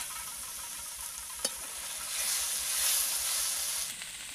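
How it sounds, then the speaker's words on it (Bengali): Potatoes sautéing in a spice masala for a cauliflower and prawn curry give a steady, close sizzle and hiss that swells slightly midway, with one sharp tap near the start. "আলুগুলো দিয়ে আমি প্রায় 2 মিনিট কষিয়ে নেব"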